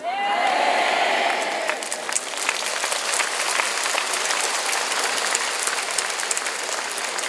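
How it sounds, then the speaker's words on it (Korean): A large audience applauds throughout at a Catholic charismatic renewal national healing retreat, dense steady clapping filling the whole span with a few scattered cheers rising above it. "앉아서 박수 치는 거야?"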